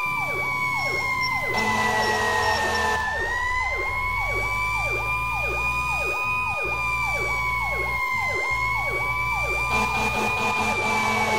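A fire truck siren in the EmergeNYC video game wails loud and continuous, cycling through rising and falling yelp sweeps under a steady engine rumble, with brief horn-like blasts mixed in.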